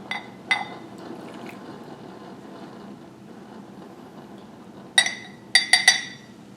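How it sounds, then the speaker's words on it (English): Espresso from a Breville Barista Express pours into a cup, with a soft steady trickle between sharp ceramic clinks at the start and a quick run of clinks at the end. "So now I'm going to pour the espresso into the cup."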